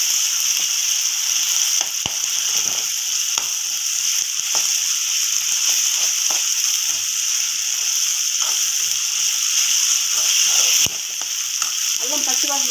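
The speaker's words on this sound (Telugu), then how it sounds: "అల్లం వేగిపోయిందండి" Ginger sizzling and frying in hot oil for a chicken fry, a steady close crackle with occasional sharper pops and stirring clicks, no voices.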